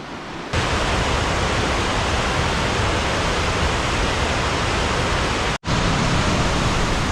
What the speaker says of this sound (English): look at the river, it's flowing incredibly fast